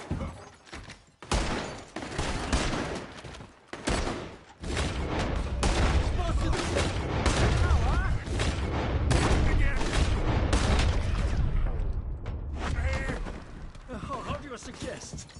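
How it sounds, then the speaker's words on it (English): Enemy gunfire in Red Dead Redemption 2, a dense volley of loud rifle and pistol shots cracking in rapid bursts over booming impacts, with shouting voices mixed in and a brief lull near the end. "They're shooting right at me!"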